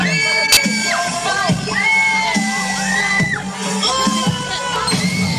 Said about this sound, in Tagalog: Palakpakan for Billy, Bong and John!